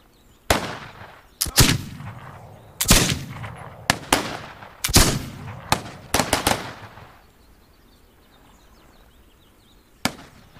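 Gunshots ring out in the survival game This Land Is My Land, a string of sharp cracks in irregular bursts over about six seconds, then a pause and one last isolated shot, loud against a quiet background.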